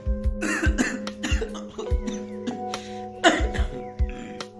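A string of sharp, harsh coughs from one person nearby, from a cold, coming in repeated bursts roughly every half second to second with brief pauses between.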